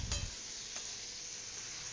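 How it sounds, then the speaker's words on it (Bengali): Ginger, cumin and chili paste frying and being stirred in a pan for a red lentil dish, a steady close hiss with a couple of brief scraping strokes near the start, no talk. "ভালো করে মশলা কষিয়ে নেব।"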